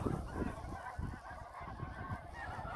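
Ducks quacking and honking in a noisy cluster in a field in South Korea, fairly close, overlapping calls continuing throughout.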